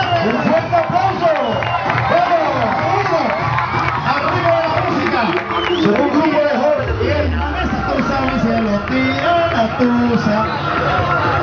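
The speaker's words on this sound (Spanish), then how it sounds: "Un fuerte aplauso." A lively carnival crowd in Tacarigua cheers, whoops and shouts for a youth dance group, loud and continuous, with chatter and children's voices mixed through the noise.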